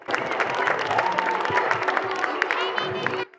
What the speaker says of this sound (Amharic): ለህፃናቶቹ ለጀማሪ ተማሪዎች እስቲ ሞቅ ያለ ጭብጨባ አንዴ